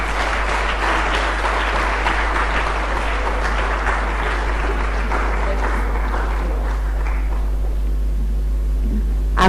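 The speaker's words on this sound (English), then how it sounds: "please give him another round of applause" Applause from an audience at a Ghana government event, dense steady clapping that fills the hall and fades out toward the end, with some voices underneath.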